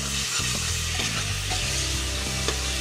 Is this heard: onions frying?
yes